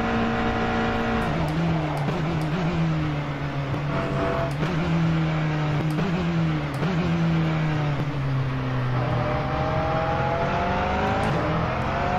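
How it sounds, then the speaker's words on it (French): A race car engine in the sim racing game rFactor 2 revs loudly and steadily, its pitch climbing and dropping several times as gears shift in quick succession, close and continuous throughout. "Je passe les vitesses rapidement, là il m'en faut de la motricité."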